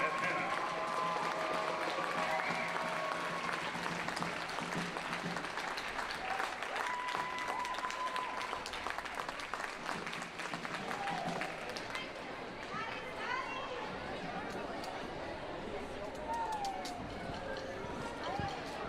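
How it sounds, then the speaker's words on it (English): Crowd at a boys high school basketball game claps during halftime, a steady wash of applause running the whole stretch, with squeaks, thumps and scattered voices from the gym mixed in. "Let's give them a big round of applause for Addison and Hannah."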